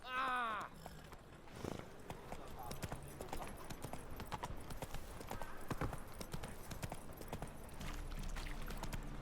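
Roach the horse clip-clops along in The Witcher 3 video game, hooves striking in a quick steady rhythm at close range, with game music and occasional voices beneath.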